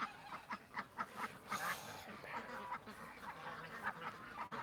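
A flock of ducks quacks repeatedly in short, rhythmic bursts at moderate distance, with overlapping calls and steady outdoor background noise.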